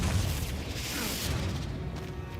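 A Confringo fire spell blast goes off in Hogwarts Legacy, heard as a low rumbling boom with a dull burst that lingers steadily for a couple of seconds, moderately loud and with no voices over it.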